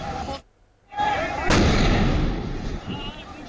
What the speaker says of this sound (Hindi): धमाके की जोरदार आवाजें यहां पर सुनी जा रही हैं